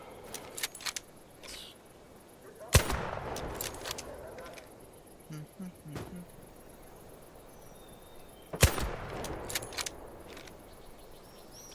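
Two sharp, isolated bolt-action rifle shots in Hell Let Loose Vietnam, about six seconds apart, with faint mechanical clicks and quiet battlefield ambience between them.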